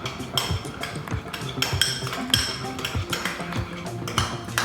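A spoon clinks and scrapes steadily against a bowl as Sriracha sauce is stirred in. The taps come close and in quick, irregular rhythm, with no talking.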